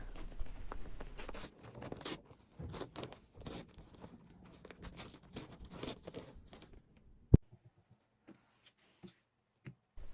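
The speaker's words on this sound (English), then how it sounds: "Now I'm going to just tear off this stabilizer really quick" Embroidery stabilizer torn away from stitched fabric labels, a close series of papery ripping and crinkling bursts for several seconds, then a sharp snap followed by near silence with a few faint taps.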